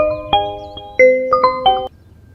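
A phone ringtone for an incoming call plays a short electronic melody of bright, sustained tones, loud and close, stopping abruptly before the end with no voices over it.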